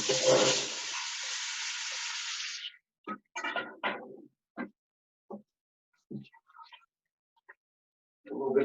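Vegetables hitting a hot pan alongside seared beef cheeks give a loud, dense sizzle for about two and a half seconds before it cuts off, followed by brief scattered clatters and scrapes, with a renewed sizzle at the end.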